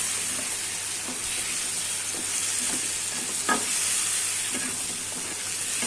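Chunks of bottle gourd hiss and sizzle as they go into hot spiced oil for a pangas fish curry. The frying is a steady, close, even crackle, with a few soft scraping stirs and no voices.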